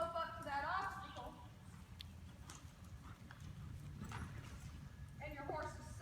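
Horse hooves at a riding clinic in an arena, a steady run of soft clip-clop footfalls through the whole stretch, with a voice talking over the start and end.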